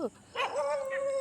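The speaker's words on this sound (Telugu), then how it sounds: "కుక్కలు ఏం అరిసినా అరుస్తున్నాయి ఫ్రెండ్ చూడండి" A dog barks once and then lets out a drawn-out whining howl, fairly close, with no other dogs clearly heard.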